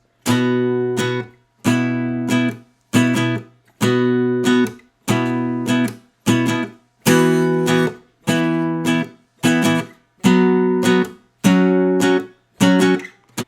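A guitar plays a riff, repeated strummed chords in a steady rhythm, each chord ringing briefly before a short pause, clear and close.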